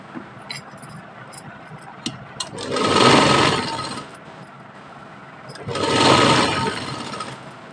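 A sewing machine stitches folded pocket fabric on a kurti in two bursts of steady whirring, about two seconds each, with quiet handling clicks between them.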